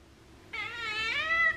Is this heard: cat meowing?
yes